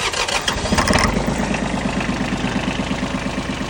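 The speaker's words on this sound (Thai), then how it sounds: "เดี๋ยวสตาร์ทให้ดูนะครับ" An Iseki Sial 5 tractor with a rotary tiller attachment cranks and its engine catches, settling into a loud, close, rhythmic diesel idle chugging steadily.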